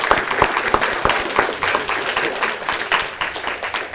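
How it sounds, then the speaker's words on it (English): A school assembly audience claps steadily at a Christmas assembly, a fairly loud, dense patter of many hands held at an even level throughout without pause. "Big round of applause for them."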